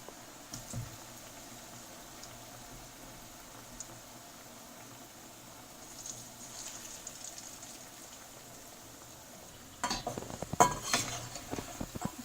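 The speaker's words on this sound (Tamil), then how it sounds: "இப்போ நல்லா அப்படியே மிக்ஸ் பண்ணிவிடுங்க." Cauliflower pieces coated in masala fry in a pan over a medium flame, a faint low sizzle for a long stretch, then a burst of spoon clatter and scraping as the pieces are mixed near the end.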